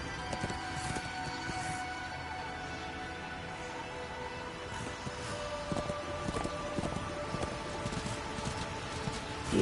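A horse's hooves clop steadily while riding in Darksiders 2, a light rhythmic patter of footfalls under ambient game music and rustling.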